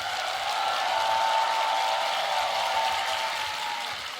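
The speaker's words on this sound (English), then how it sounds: "I want to get a huge round of applause for every tag team that was on this stage." Crowd at a beatbox battle applauding the tag teams, a dense, steady wash of clapping and cheering from a large audience, continuous and fairly loud throughout.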